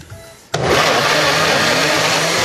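After a brief quiet moment, a blender switches on and runs loudly with a steady, high whirring roar that continues to the end.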